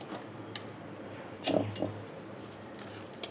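Drained, soaked rice is tipped into a mixer jar in a home kitchen, making a brief rattling, clattering pour of grains against the jar. It is close and short, set in otherwise quiet surroundings.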